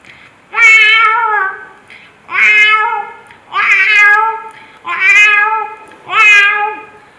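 A mimicry performer at a state school arts festival imitates a cat meowing, five drawn-out meows in a steady rhythm, close and loud with short pauses between.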